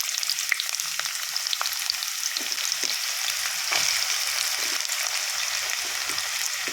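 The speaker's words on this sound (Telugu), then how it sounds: "ఇప్పుడు ఇది అయింది కదా, ఆనియన్స్ వేసేసుకుందాం మనం." Onions sizzle and fry steadily in a hot masala-spiced pan, a continuous bright crackle with small pops and occasional stirring scrapes, close and moderately loud with no talking.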